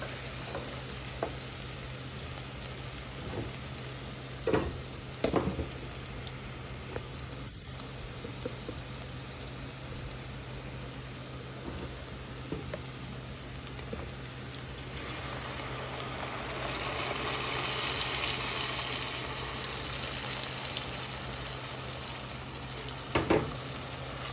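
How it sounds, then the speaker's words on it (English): Blended tomatoes cooking with caramelized onions for chicken biryani give off a constant close sizzle and bubbling in the pan. The sizzle swells louder in the second half, with a few clattering stirs of a spoon mixed in. "at this point I'm going to add the blended tomatoes and let it cook."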